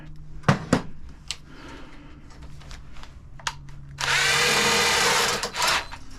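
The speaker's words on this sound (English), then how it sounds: "And then if you have an electric drill," An electric drill whirs loudly for over a second after a few clicks and knocks, then stops; the setting is otherwise quiet.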